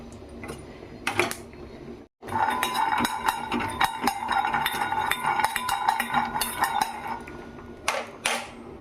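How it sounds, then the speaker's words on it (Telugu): A handful of peanuts dry-roasting in a pan for gongura chutney, the nuts rattling and clinking against the metal in a busy, continuous close patter after a brief pause. "ఒక గుప్పుడు శనగిత్తనాలు కూడా బాగా వేయించుకుందాం"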